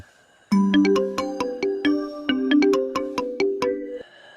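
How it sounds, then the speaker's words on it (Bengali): A bright electronic mobile phone ringtone plays a repeating melodic pattern of chiming tones at night, loud and close, for several seconds with no talking. "আমার ফোন বেজে উঠল।"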